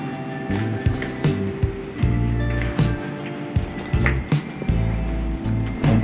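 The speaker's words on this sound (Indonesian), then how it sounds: "Kita coba hidupin filler, pompanya akan" An automatic six-nozzle filling machine for thick liquids runs its pump, giving loud, rhythmic low mechanical pulses with steady humming tones and repeated clunks throughout, and no talk.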